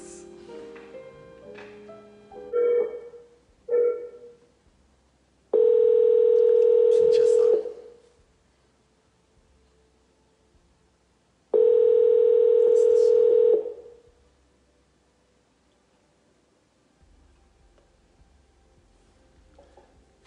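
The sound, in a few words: telephone tone while placing a call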